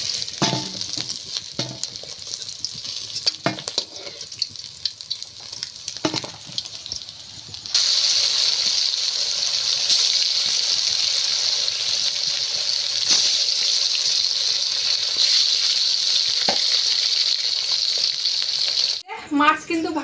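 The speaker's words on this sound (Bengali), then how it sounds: "মাছ কিন্তু ভাজা হয়ে গেছে" Fish frying in hot oil, a loud close sizzle that swells into a dense steady hiss partway through and carries on unbroken, with small clatters and a short burst of other sound at the end.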